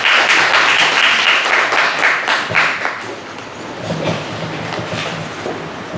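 Warm applause fills a large hall at a Korean film production launch ceremony, steady clapping from the crowd at first, then thinning and tapering off while a few voices murmur underneath.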